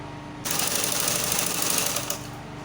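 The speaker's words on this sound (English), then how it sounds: "When I close it, I will now sew it so that the bone can pass." A sewing machine stitches the center back line of a petticoat for a hoop skirt, starting abruptly and running in one steady, close, continuous burst of about a second and a half before stopping.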